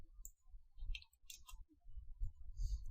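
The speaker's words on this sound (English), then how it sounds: "I'll just type" Computer keyboard typing, a faint, sparse scatter of soft key clicks in short irregular bursts close to the microphone with quiet gaps between.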